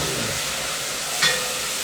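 A drop of water hitting a hot, slightly scorched pan of browning onions gives a steady close sizzle and hiss, with a brief sharper spit partway through.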